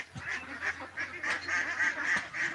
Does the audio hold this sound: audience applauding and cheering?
no